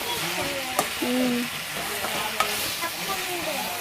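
A broad bean curry fries in a village kitchen pan, a steady close sizzle broken by a couple of sharp spoon taps and scrapes as it is stirred.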